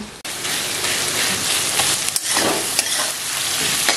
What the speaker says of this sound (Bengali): পেঁয়াজ কুচিটা একটু ভাজবো, ভাজার পর এই আলু কুচিটাও দিয়ে দেবো